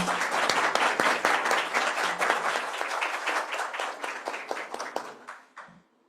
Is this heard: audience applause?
yes